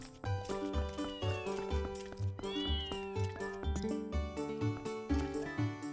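Cartoonish cat meows from the video game The Legend of Zelda: Twilight Princess, several repeated mews riding over a rhythmic, tonal game music loop with plucked and bell-like notes, all at moderate level and with no talking.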